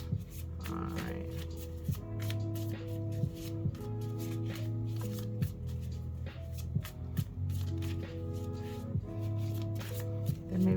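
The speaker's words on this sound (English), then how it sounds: "Get this deck nice and shuffled." Tarot cards are shuffled repeatedly close up, crisp riffling bursts and soft slaps in a loose rhythm over a low, steady background hum.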